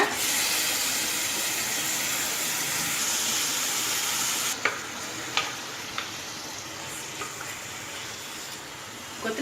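Minced meat sautés with softened onions in a pan, a dense hissing sizzle that drops lower halfway through, followed by a few distinct spatula scrapes and knocks, close and steady, with no voices.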